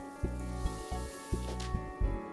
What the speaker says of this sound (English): Let's add that broth into the wok